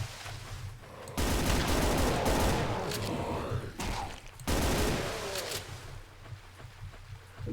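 Sustained gunfire in the Doom 2 video game, dense rapid shots in two long bursts separated by a brief lull, loud and close with a constant clattering roar.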